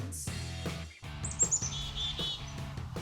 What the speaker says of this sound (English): It sounds like one of our local songbirds, the chickadee.